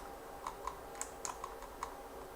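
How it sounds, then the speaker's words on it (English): Keystrokes on a computer keyboard, a quick run of separate clicks with uneven gaps, fairly close and clear against a quiet room. "somebody's typing"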